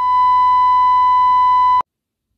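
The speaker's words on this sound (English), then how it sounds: "I will bleep that" A loud, pure censor bleep tone, held steady for almost two seconds over a phone number, then cut off sharply into silence.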